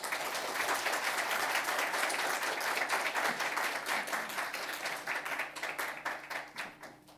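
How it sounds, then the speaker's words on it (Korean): A church audience gives sustained clapping to welcome a professor onto the stage for a Christian lecture. The applause is dense and loud at first, then thins out and fades over the final seconds. "크게 박수로 우리 환영하겠습니다"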